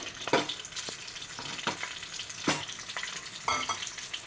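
Whole spices (cinnamon, cloves, cardamom and allspice) frying in ghee and oil for ghee rice, a soft sizzle punctuated by scattered crackles, pops and stirring scrapes, fairly quiet with no voices.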